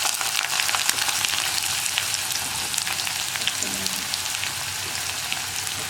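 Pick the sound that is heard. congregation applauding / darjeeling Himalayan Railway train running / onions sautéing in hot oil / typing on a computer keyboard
onions sautéing in hot oil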